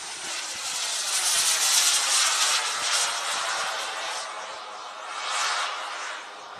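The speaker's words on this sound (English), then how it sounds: "I thought our jets was fast on flyby." A model turbine jet plane makes a fast flyby at a flying event, heard as a loud, steady, high-pitched jet roar that builds and fades slightly and then swells again as it passes.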